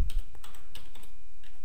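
Rapid clicks of a computer keyboard being typed on, a short burst of close, light keystrokes against quiet background with no voices.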